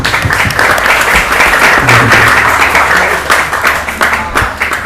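Audience applause at an open madrasa examination event at an Islamic boarding school, dense steady clapping from a large crowd lasting throughout, loud and close with no talk over it.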